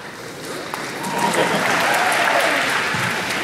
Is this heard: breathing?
no